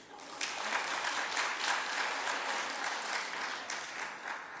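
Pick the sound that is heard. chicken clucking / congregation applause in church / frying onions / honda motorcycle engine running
congregation applause in church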